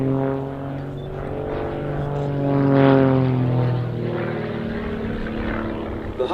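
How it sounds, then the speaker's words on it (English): A Grob Tutor propeller aircraft drones through a Canadian break manoeuvre at the Duxford Battle of Britain Airshow 2018, its engine tone steady then rising and swelling in pitch as it banks away, moderately loud in open air. "Get your cameras ready as Andy performs a Canadian break."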